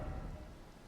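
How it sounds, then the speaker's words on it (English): Rain falls steadily in the Elden Ring game world outside the capital, a dense, even hiss of downpour with a low rumbling undertone, continuous and fairly quiet, with no voices. "Ooh, it's raining."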